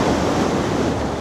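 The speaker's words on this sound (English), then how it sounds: "It's always a wonderful place just to end near the sea and just listen to the waves" Sea waves surge onto the shore at Blackpool in a loud, continuous wash of surf with wind noise on the microphone and no voices.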